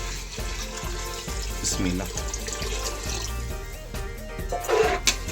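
Water is poured over rice in a pot with a steady splashing, trickling sound, close by, while a voice talks over it.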